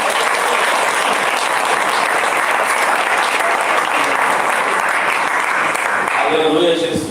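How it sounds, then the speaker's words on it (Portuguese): A church congregation applauds continuously, a full sustained roar of many hands with faint voices mixed in, and speech emerging near the end. "Você pode aplaudir o Senhor Jesus?"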